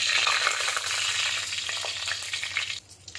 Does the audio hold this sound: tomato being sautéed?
yes